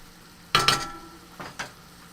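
Onions cooking down in wine in a pan give two short, close bursts of stirring and sizzle, separated by a quieter simmering pause.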